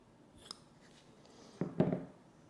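Scissors snipping natural cotton wick for a DotMobb-C rebuildable atomizer: one faint small click, then a close, crisp cutting crunch near the end, with no talking.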